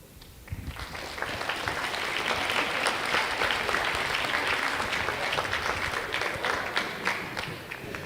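An audience breaks into sustained applause, many hands clapping steadily for several seconds before tapering slightly.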